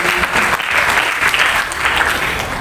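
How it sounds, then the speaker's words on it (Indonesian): Audience applause at a school graduation ceremony for ninth graders, a dense, steady wash of many hands clapping at once, loud and continuous throughout with no talk over it. "Boleh tepuk tangan untuk"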